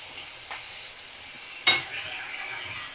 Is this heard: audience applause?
no